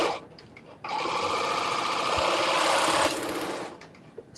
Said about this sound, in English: Serging this was the right step.